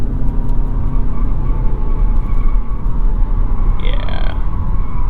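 A 2022 Lexus NX 350h hybrid SUV pulls hard up a highway on-ramp, a steady loud engine and road drone filling the cabin, with a short rising whine near the end.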